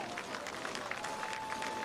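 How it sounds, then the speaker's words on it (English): Crowd applause and cheering for the winner of the Hunt the Front Super Dirt Series season finale at I-75 Raceway, a steady, dense wash of clapping heard from a distance with no clear voices. "Make some noise for Big Sexy Brandon Overton."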